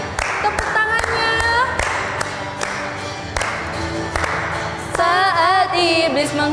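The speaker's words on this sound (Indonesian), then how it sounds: "Ayo lebih semangat lagi. Tepuk tangannya." Rhythmic group clapping along with upbeat music at an online children's church service, sharp regular claps over singing voices and instruments.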